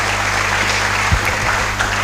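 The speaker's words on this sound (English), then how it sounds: "Can we give him a round of applause?" An audience at a college engineering freshmen orientation applauds a presenter. The clapping is dense and steady, with a low hum underneath and a few louder thumps.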